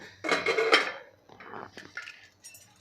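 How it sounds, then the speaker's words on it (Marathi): A pressure cooker lid is opened after cooking matar pulao, giving a run of metallic clanks, scrapes and rattles in several close, uneven bursts with quiet gaps between them. "आता आपण कुकर खोलून बघूया"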